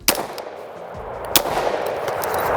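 Two sharp, loud gunshots fired at close range into ceramic and steel body armor, one at the start and another about a second later, each followed by a brief ringing decay.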